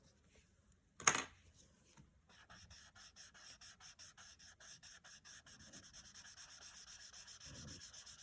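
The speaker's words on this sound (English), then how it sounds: "there's enough graphite on this blending tool, as you can see, to add some shade to the light parts of his body." Graphite on a blending tool rubbing and shading a rhinoceros drawing on paper, a soft steady scratchy rhythm of short strokes repeating close up after one sharp knock, with no talking.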